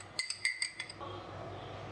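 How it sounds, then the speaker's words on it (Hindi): A spoon clinks against a glass several times in quick succession while stirring sugar into lukewarm water for pizza dough, then softer swirling as the stirring settles. "सबसे पहले हम नीम गर्म पानी में चीनी को मिक्स करेंगे"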